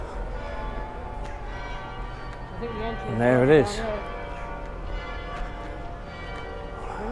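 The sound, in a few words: church bells ringing near Menin Gate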